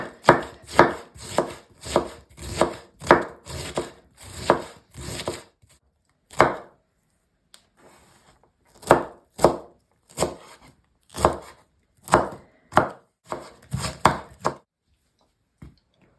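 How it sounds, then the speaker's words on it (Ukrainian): A knife finely chopping cabbage on a board in steady, loud rhythmic bursts, a pause of a couple of seconds midway, then the chopping resumes at a similar pace, close up with no voices. "І дрібненько нарізаємо."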